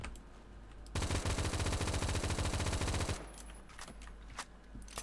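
Sustained automatic weapon fire in the video game Phantom Forces, one fast, steady burst of about two seconds, loud and close, followed by quieter clicks and handling noises.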